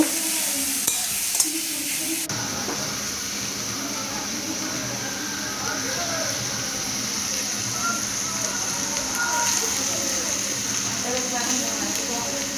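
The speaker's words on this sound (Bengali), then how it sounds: "দিয়ে দিলাম ক্যাপসিকাম, বিনস, দিয়ে কাঁচা লঙ্কা দিয়ে কিছুক্ষণ নাড়িয়ে নেব" Capsicum, beans and green chillies tossed into a pan with carrots hit the oil with a sudden sizzle, then keep up a continuous frying hiss while a spoon stirs and scrapes, with some voice beneath.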